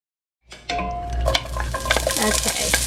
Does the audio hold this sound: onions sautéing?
yes